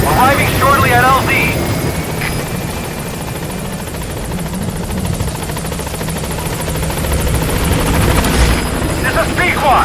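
Helicopter B-Quad from Metal Gear Solid V arriving over the landing zone, a steady rotor thrum and turbine whine filling the scene throughout, with a radio voice speaking over it.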